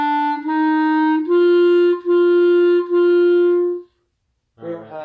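A clarinet plays four clean, sustained quarter notes from measure 3 of Lightly Row, each a steady tone separated by slight breaks, followed by silence and then a brief voice.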